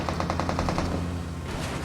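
Rapid automatic gunfire from the mobile battle-royale game PUBG Mobile comes as a tight burst of about eight shots, followed by a brief echoing tail.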